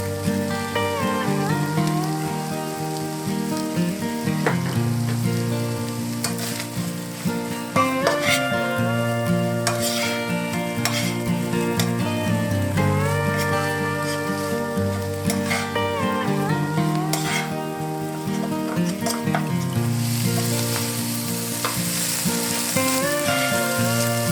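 Corned beef with tomato paste fries in a pan, giving a continuous sizzle with occasional crackles over about twenty seconds, with music playing behind it.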